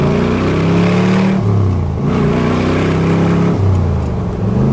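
A fuel-injected 327 engine in a 1965 Chevrolet Corvette coupe rumbles loudly from inside while driving, rising and dropping in pitch through gear changes, with heavy low-end roar throughout.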